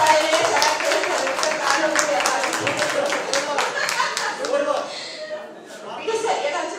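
Steady, dense clapping from a crowd at a comedy show held during a human rights event, mixed with speech, fading briefly near the end before picking up again.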